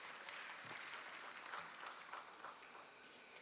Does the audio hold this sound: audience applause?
yes